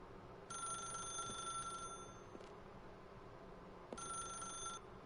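Telephone ringing in a video game: two electronic bell bursts of about one and a half and one second, separated by a pause, over a steady low background hiss, with no voices.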